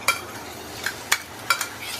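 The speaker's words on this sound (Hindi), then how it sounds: "मसाले को लाइटली सौते कर लेंगे, धीमी आंच पे इसे सौते करेंगे।" Crushed green chilli, ginger and garlic paste sautés in hot oil on low heat, a steady soft sizzle broken by several sharp close clicks of a spoon against the pan.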